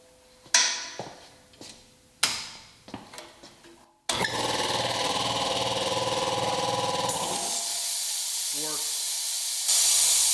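Harbor Freight air compressor just repaired, preceded by a few sharp clanks and knocks, then starting abruptly into a loud steady motor drone with hiss that continues to the end, briefly rising louder near the close.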